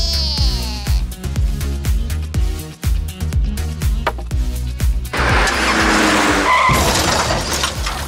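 A toy car driving and skidding, a busy run of sharp squeals and rattling rolls with repeated clicks, ending in a louder sustained hiss and scrape, no voices.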